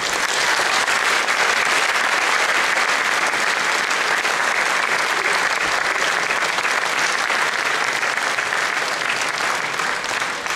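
A large audience gives loud, continuous applause for the Zagore folk ensemble from Stara Zagora, a thick, even roar of clapping that stays strong from start to finish.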